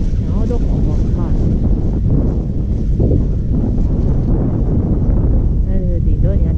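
Strong wind in a snowstorm on a ski slope at Niseko gives a constant, heavy roar and buffeting close to the microphone, with voices faintly audible under it.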